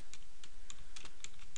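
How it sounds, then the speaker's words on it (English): Steady typing on a computer keyboard, a run of light, evenly spaced key clicks up close with no voices over them. "I'm just typing garbage here"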